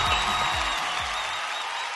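A studio audience claps after a stage performance on a comedy show, dense steady applause heard at close range that tapers slightly toward the end, with a voice faintly underneath.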